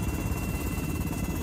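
A CAL FIRE Firehawk helicopter flies at night, its steady, loud rotor chop and turbine whine filling the air continuously and close by, with no voices.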